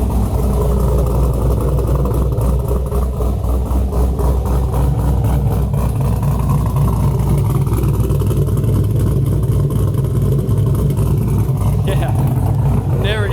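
The LS V8 exhaust of a Camaro ZL1 1LE with an axle-back system rumbles deep and loud, holding a steady throaty idle with slight swells in revs throughout.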